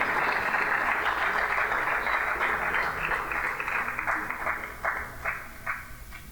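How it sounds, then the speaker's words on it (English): An audience applauds at a Labour Day award ceremony, with dense clapping from a crowd that holds steady before thinning into scattered, separate claps toward the end. "Round of applause, please."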